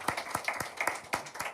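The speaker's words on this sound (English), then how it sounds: "I just wanted to give a round of applause, actually, to all of us for this project" A short burst of steady, evenly spaced hand clapping at a COP28 gathering, close and fairly crisp, with no talking over it.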